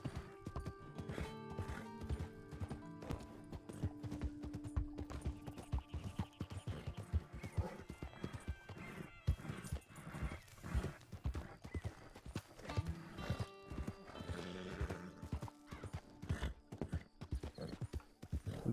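A galloping horse in Red Dead Redemption 2 Online: continuous, close clip-clop of hooves over a long stretch, with whinnies and snorts breaking through, plus a busy layer of game sound behind it.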